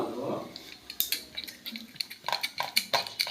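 A metal spoon stirs hot jaggery syrup and peanuts on a plate, producing quick scraping and clinking strokes against the plate that grow busier toward the end, close and moderately quiet.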